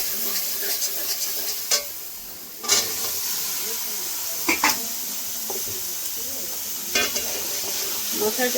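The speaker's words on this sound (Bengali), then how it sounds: "মশলার সঙ্গে কাবলি চানাটা সুন্দর করে ভেজে নেব, মশলার সঙ্গে মিশিয়ে সুন্দর করে কষিয়ে নেব।" Kabuli chickpeas fry with spice masala in a close, hissing sizzle, broken by a few sharp scrapes and knocks as they are stirred.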